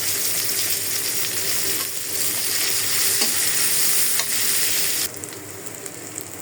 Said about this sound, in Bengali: কই মাছটা ভাজা হয়ে গেছে, দিয়ে দিলাম পেঁয়াজ আর কাঁচামরিচ।